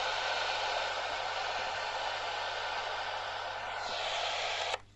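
An open-squelch CB radio pours out loud, continuous white-noise static that cuts off abruptly near the end.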